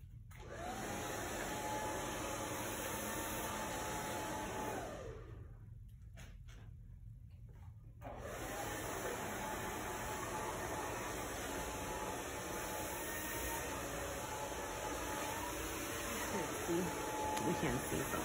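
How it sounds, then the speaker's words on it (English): Salon blow dryer drying hair at a beauty school, a loud steady whine that cuts out for a few seconds midway and then resumes, with faint talk underneath. "And then I blow dry, I'm going to aim for my stomach. So my blow dryer is going to be held out like this."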